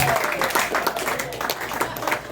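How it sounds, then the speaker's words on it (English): Audience applause for the Sphincter Army, a dense burst of clapping with crowd noise throughout, a voice briefly heard over it. "I would like a round of applause for my Sphincter Army"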